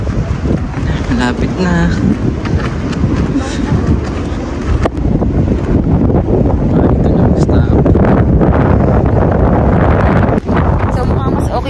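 Strong wind at Kapurpurawan in Ilocos buffets the microphone in a loud continuous roar, with people talking briefly over it.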